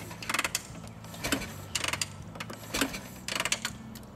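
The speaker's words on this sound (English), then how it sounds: "And you get a few healthy kicks to clean out the cylinder." A 1942 Harley Davidson WLA motorcycle is kicked over to clean out the cylinder, with four or five separate mechanical ratcheting bursts spaced under a second apart, close and moderately loud, without the engine firing.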